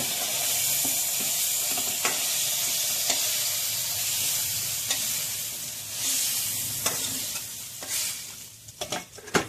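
Eggplant fries in a little oil, the moisture cooked off, with a loud close sizzle and repeated scraping clicks as it is stirred and lifted, the stirring growing busier near the end.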